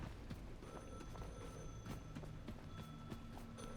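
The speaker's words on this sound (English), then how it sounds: "every time I go to record, the phone starts ringing" A telephone rings in The Last Caretaker video game. Faint, repeated ringing tones sit over a steady noisy background, with short clicks and taps scattered throughout.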